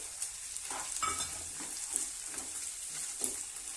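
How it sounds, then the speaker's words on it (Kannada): Green peas fry in a pan for gobi curry, a steady close sizzle with soft stirring scrapes recurring throughout and no voices. "ನೋಡಿ ಫ್ರೈ ಆಗ್ತಿದೆ ಬಟಾಣಿ ಹಾಕ್ತೀವಿ"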